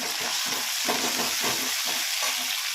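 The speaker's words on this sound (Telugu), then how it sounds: "టమోటా బాగా సన్నగా కట్ చేసుకొని వేసుకొని ఫ్రై చేసుకోవాలి" Finely chopped tomato frying in a pan for kakarakaya pulusu, a bitter gourd curry, gives a steady close sizzle with bursts of stirring scrapes throughout.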